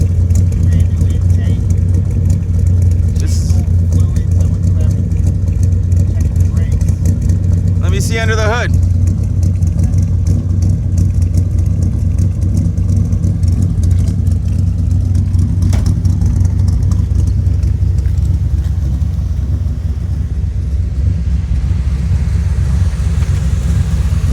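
A 1948 Chevy 3100 pickup with a 350 V8 and glass pack mufflers idling, a deep continuous rumbling burble close by, with people talking over it throughout.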